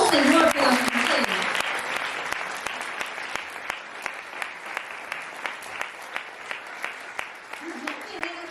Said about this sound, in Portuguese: Vamos dar uma salva de palmas ao Senhor pela vida dele?